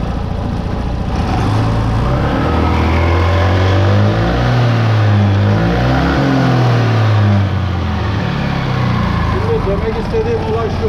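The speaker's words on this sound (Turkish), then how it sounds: "Artık gaz vereceğiz şimdi." An Arora Max-T150 scooter engine revs up under throttle during variator maintenance, rising loudly to a sustained high pitch and then falling back, close and continuous with no talk.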